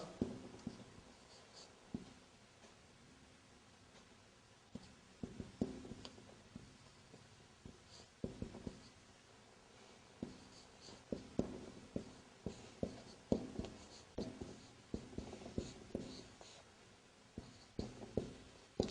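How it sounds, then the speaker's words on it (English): Pen or marker writing on a board during an Arabic lesson, quiet scratchy strokes and taps coming in bursts with pauses, close and faint with no talk. "I'll write down"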